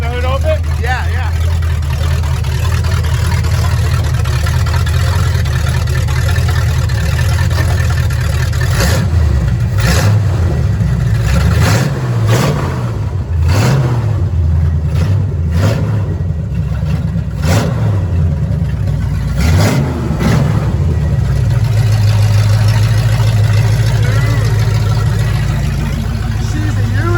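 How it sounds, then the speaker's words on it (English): A 1974 Ford F-250 with a custom 360 big block and headers, hood open, revs loudly in several sharp bursts over a steady rumbling idle, with people talking nearby throughout. "Let me give it a couple more revs."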